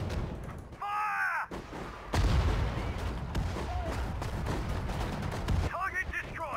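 Sudden Strike 4 World War battle: bursts of artillery and gunfire crack and rumble repeatedly, loud after an opening pause, under brief radio-style voices and a tonal game cue.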